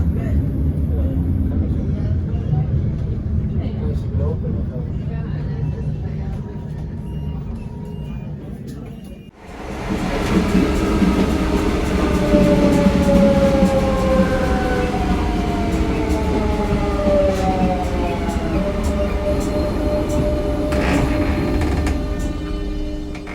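A Metro Valencia FGV tram manoeuvres around the Tarongers loop, steady low rumble giving way to rising and falling wheel squeal as it rounds the curve, loud and close with no voices over it.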